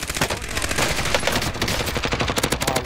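Light machine gun in Warzone fires long, rapid bursts of dense, loud automatic shots in a close, steady rhythm that tightens toward the end.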